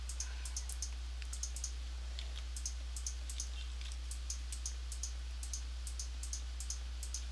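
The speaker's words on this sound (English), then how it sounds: "you're going to hear a lot of clicking" Rapid computer mouse clicks picked up by the microphone during a Minecraft building session, sharp light ticks in quick irregular bursts repeating steadily over a constant low hum, with no talking.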